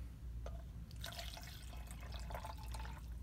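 Water is poured over ice into a container for a sour cherry G Fuel drink, starting after a short pause as a close, splashing, bubbling fill with a faint clink at the start.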